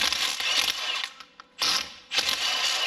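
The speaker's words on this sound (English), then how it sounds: "go ahead and remove this center bolt here for the pulley" A wrench ratcheting off the center pulley bolt of a Honda power steering pump: quick bursts of close metallic clicking, broken by brief pauses, with no talk.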